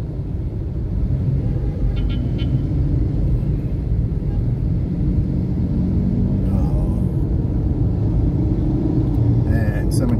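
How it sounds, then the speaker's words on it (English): Heavy road traffic grinds steadily through the streets of Manila, Philippines, with jeepneys and cars passing close in a continuous loud rumble of engines, a few faint horn-like tones breaking through, and occasional voices in the background. "So much traffic."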